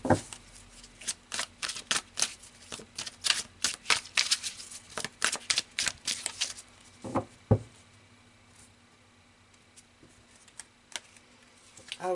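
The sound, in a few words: tarot cards being shuffled and pulled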